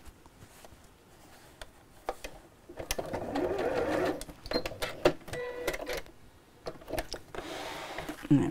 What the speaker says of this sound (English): And then we'll just sew that in place, just to hold it quite close to the edge again